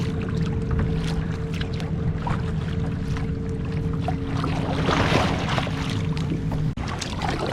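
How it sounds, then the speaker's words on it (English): Kayak paddling on open water near a beach, a steady wash of water and wind noise with soft splashing strokes throughout, growing slightly louder toward the end. "Try not to get you guys too seasick watching us kayak."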